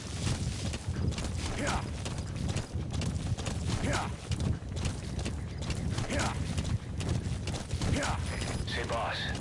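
Hooves of a horse walking in Metal Gear Solid V, a steady clip-clop running throughout beneath game music and someone talking over it.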